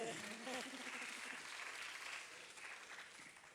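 Applause from an audience, dense clapping that stays steady and then tapers slightly, with a voice briefly audible at the start.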